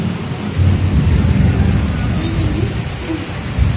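Thunderstorm with heavy rain pouring outside, a steady loud roar of rainfall with low rumbling thunder underneath, continuous throughout and close by.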